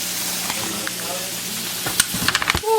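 Curry chicken and shrimp frying in a pan over medium heat give a steady close sizzle, with a few utensil clinks and stirring knocks toward the end.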